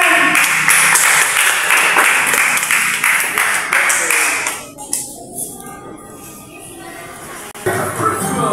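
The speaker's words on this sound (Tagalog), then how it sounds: "Palakpak naman kayo dyan!" An audience claps through a school production-number program, with dense, steady applause and crowd noise that fade partway through before the clapping picks up again near the end.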